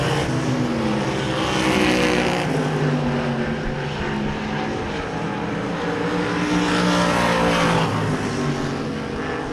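Race cars roaring around the oval at Devil's Bowl Speedway on the final lap, loud continuous engine drone with engine notes swelling and fading as the cars pass.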